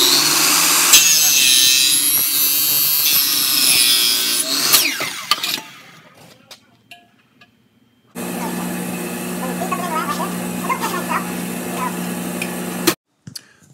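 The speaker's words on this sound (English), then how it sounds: "I'm just simply moving the aluminum down and making cuts" Aluminum stock cut to length with a saw: a loud, steady rasping cut for several seconds, a pause of near silence, then a second long, even cut that stops abruptly.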